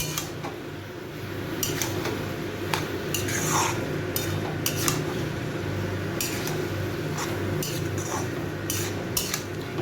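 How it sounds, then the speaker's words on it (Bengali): Banana flower (mocha) is stir-fried on a high gas flame for mochar ghonto with coconut and chickpeas, a steady close sizzle broken by repeated sharp scrapes and clinks of a metal spatula against the pan. "এই মোচাটা দিয়েও আমি আরও 3-4 মিনিট ধরে একটু ভালো করে কষিয়ে নেব।"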